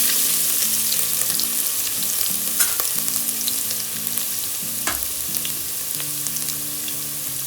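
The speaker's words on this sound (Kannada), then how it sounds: "ಇವಾಗ ನಾವು ಶುಂಠಿ ಬೆಳ್ಳುಳ್ಳಿ ಹಾಕೊಳ್ತಾ ಇದೀವಿ. ನೀಟಾಗಿ ಫ್ರೈ ಮಾಡ್ಕೊಳ್ಳಿ." Ginger and garlic fry steadily in a pan with a constant bright sizzle, punctuated by a few sharp spatula scrapes and stirring clicks; no voices are present.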